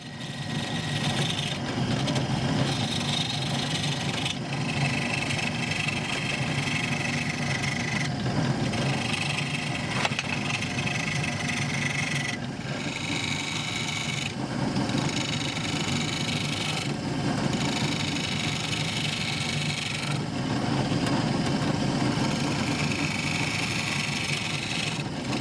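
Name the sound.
wood lathe turning a curly maple bowl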